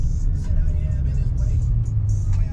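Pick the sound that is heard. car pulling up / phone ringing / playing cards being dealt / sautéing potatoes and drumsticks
car pulling up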